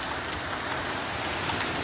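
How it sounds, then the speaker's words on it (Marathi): Nonstop heavy rain pours down in the afternoon, a continuous broadband hiss of drops striking surfaces, fairly soft and even throughout with no voices. "आता दुपारची सव्वा एक वाजे तरी पाऊस चालू आहे"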